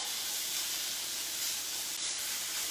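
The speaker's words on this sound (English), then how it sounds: "just put that meat in there. This is top sirloin steak that was just cut up" Freshly cut-up top sirloin steak hits a hot pan for fajitas and sizzles in a loud, continuous hiss. It stays close and steady for the whole moment, with no talking.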